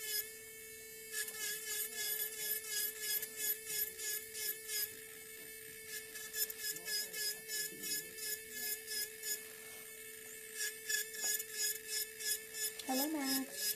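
Fingernail filed and bevelled by a nail technician, a steady rhythmic rasping of repeated short strokes close up, with a faint constant tone beneath.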